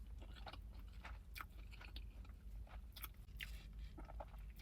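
A quesadilla with cheese, dipped in adobo ranch sauce, is chewed close to the mic, with soft wet crunches and squishy bites in an irregular rhythm at low volume.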